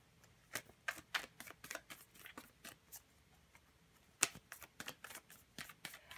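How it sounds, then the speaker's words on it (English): Tarot cards riffle and slap in a series of quick, close bursts with brief pauses between them, crisp papery flicks standing alone against a quiet room. "I shuffle with my eyes closed,"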